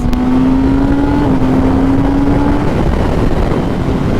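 A restricted sport motorcycle cruises along a road, its engine a steady droning hum with one shift in pitch partway through, heavy wind rush over the microphone throughout, no voices.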